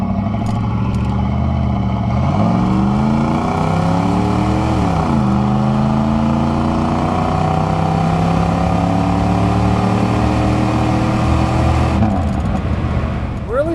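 A 1988 Chevrolet Camaro IROC with TPI 350 V8 accelerates hard, engine pitch climbing and dropping through several gear shifts, loud and close throughout.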